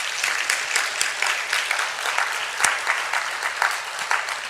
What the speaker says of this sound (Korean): 우리께 큰 은혜 베푸시는 우리 하나님께 큰 감사의 박수 올려주시면 좋겠습니다.